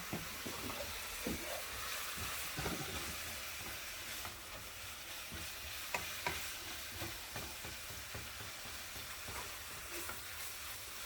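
Ground meat sizzles and fries in a pan over high heat, a steady crackling hiss with occasional stirring scrapes, fairly soft and without talk.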